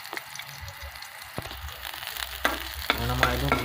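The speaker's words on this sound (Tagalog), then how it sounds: "magigisa na tayo ng aromatic" Garlic and onion sauté in a pan, a steady sizzle with scraping stirs and crackling bursts that grow louder toward the end.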